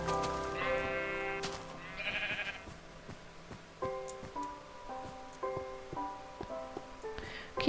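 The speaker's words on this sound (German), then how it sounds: "Das ist ein Schaf." Minecraft sheep bleat in a video game, a string of nasal, wavering calls that come one after another, the later ones shorter, along with light ticking clicks in the background.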